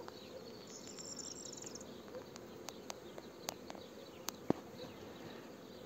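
At an opened beehive full of drones, bees hum as a faint, steady buzzing drone, with a few sharp clicks and ticks scattered through it and no voices.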